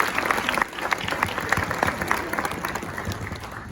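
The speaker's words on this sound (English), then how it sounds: "I think you all owe everybody a nice round of applause." Audience applause at a high school scholar-athlete awards event, a steady patter of many hands clapping at moderate distance, with some voices mixed in.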